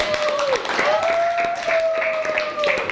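Classroom clapping at a university history-education teaching session: a dense, steady patter of hands lasting about three seconds, with a voice speaking over it.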